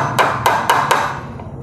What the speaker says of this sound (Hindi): एक साइड खिल्ली मार ली है मैंने